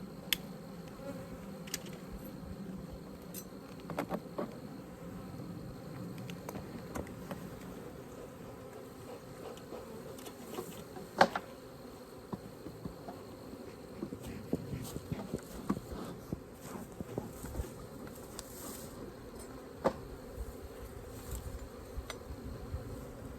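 Bees buzzing around a hive on a homestead while a nucleus colony is moved into a ten-frame box, a steady low hum with individual insects droning close past the microphone, alongside faint footsteps.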